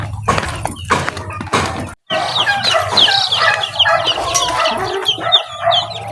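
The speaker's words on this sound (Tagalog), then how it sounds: "Mayroon din tayong sisiyo dito ng manok at saka pabo." Young chicken and turkey chicks, 18 chicks and 4 turkey poults, clucking and peeping in a brooding pen, a dense, continuous stream of chirps with a brief silent break near the start.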